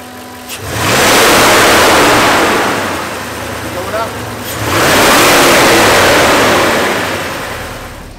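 An Audi A8 4.2 petrol engine revs hard twice, each surge swelling loud and roaring before easing back toward idle, close by.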